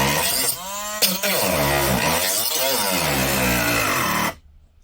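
A Parkside PFBS 12 C7 cordless 12V rotary tool running nearby with a high, steady whine that dips and rises under load over several seconds, then stops abruptly.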